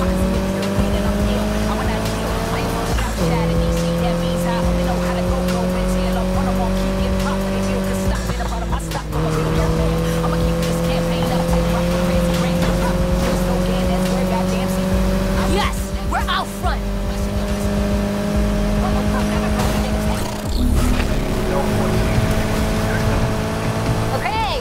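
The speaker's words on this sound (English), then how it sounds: "Driving a custom Mitsubishi Evolution" A custom Mitsubishi Evolution racing through the Need for Speed Heat driving game, its engine droning loud and steady with a few gear shifts as the pitch climbs. Tires squeal now and then, and there are sharp knocks and bangs.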